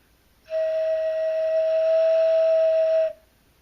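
A single sustained, steady whistle-like tone from a homemade 9 or 10 hole ocarina, with a breathy, airy edge, held for about two and a half seconds, then stopping cleanly.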